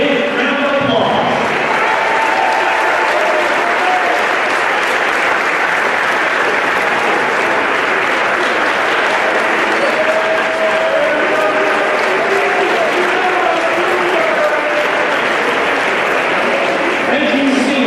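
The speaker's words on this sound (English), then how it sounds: "Ladies and gentlemen, join me in giving these 3 seniors a big round of applause." A large crowd at a varsity boys basketball game in a gym gives sustained, loud applause for three senior players, with cheering voices mixed into the dense clapping throughout.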